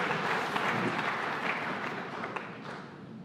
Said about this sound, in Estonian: Ootame aplausi ära.